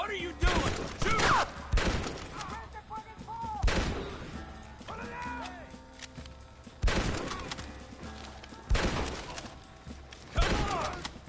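Gunfire in the video game Red Dead Redemption comes as repeated loud rifle and pistol shots in bursts, with shouting game voices over scattered battle noise between volleys.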